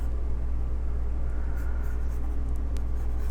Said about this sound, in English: I'm going to draw their head, their horns.